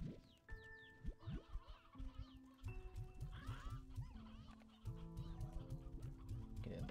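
Roosters in Slime Rancher 2 cluck and squawk repeatedly in a busy, overlapping cluster, with a steady game soundtrack humming underneath.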